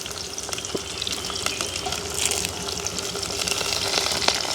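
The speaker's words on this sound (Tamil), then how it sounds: "வட்டி வச்சிருக்கிற வெங்காயம் பச்சை மிளகாய் எல்லாம் நாங்கள் வட்டி வச்சுட்டோமே கருவேப்பமில்லை கழுவி வச்சுருக்கிற கருவேப்பமில்லையும் போடுவோம்" Onion, green chilli and curry leaves fry in hot oil, giving a steady, close sizzle with soft crackles and occasional stirring clicks throughout, and no one speaks.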